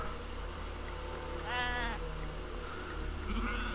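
Sheep bleat once in Age of Empires, a short wavering call rising briefly above a steady hum of game ambience and background sounds.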